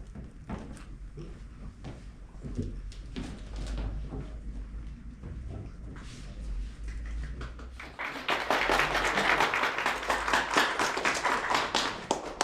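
An audience in a classroom or workshop session breaks into dense clapping in the last few seconds, loud and sustained, after a stretch of quieter room noise with scattered taps.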